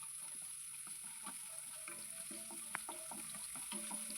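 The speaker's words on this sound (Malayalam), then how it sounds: "നല്ല പോലെ ഇതൊന്ന് വഴറ്റിയെടുക്കാം" Ginger, garlic and green chilli with whole spices sautéing in a pan, a soft steady sizzle with light stirring scrapes and faint clicks, fairly quiet throughout.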